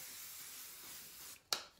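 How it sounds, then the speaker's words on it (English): Hairspray hisses steadily from a can onto hair for over a second, then cuts off, followed by one short, sharp burst near the end, close and clear with no talking. "Spray."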